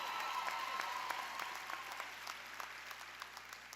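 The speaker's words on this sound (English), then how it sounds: "you can clap, that's good." Audience at a college commencement ceremony clapping for an honors graduate, dense applause with individual claps audible, gradually thinning and fading toward the end.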